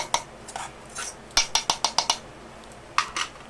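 Metal spoon clinking repeatedly against a bowl of seasoned fish roe mixed with egg, a series of sharp, close clinks in a quick rhythm with a few scattered taps before and after.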